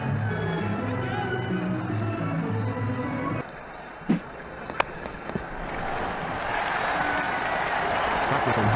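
A stadium crowd at a cricket match in Ashes Cricket 2009 applauds in a steady broad wash for a few seconds. It then drops away to quieter ambience with a couple of sharp knocks, and a commentator's voice is heard over it.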